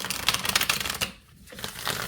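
Rider-Waite tarot cards are shuffled by hand up close, giving a rapid papery riffling with a short pause midway before the shuffling resumes.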